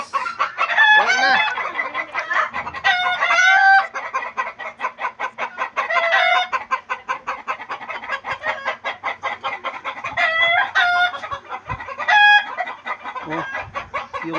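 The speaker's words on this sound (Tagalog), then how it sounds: "yung manok. Ang ingay." Chickens cluck and crow repeatedly and loudly close by, a busy chorus of farmyard fowl with overlapping calls and no talking.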